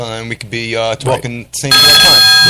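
A telephone line rings loudly with an incoming call on a radio talk show, the bright electronic ring cutting in sharply and sustained after a voice finishes talking.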